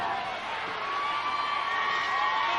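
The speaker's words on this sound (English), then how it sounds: "The crowd here in Tulsa loves Hacksaw Duggan" A wrestling arena crowd in Tulsa roars and cheers for Hacksaw Duggan, a dense, steady wash of many voices filling the hall at a fairly even loudness.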